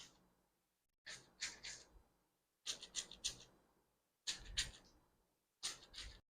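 Wet hair being scrunched with water-based gel, giving soft squelchy squishing bursts in about four clusters of repeated squeezes, close and quiet, with silent gaps between.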